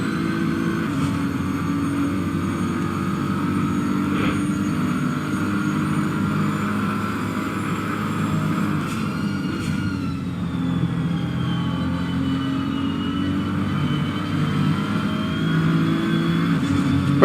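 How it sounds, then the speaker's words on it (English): A BMW GT3 race car on track at Bathurst in the video game Assetto Corsa Competizione, with a steady onboard engine drone that holds a near-constant pitch and a slight rise in revs near the end, with no talk. "just listening to the engine, there's nothing dramatic"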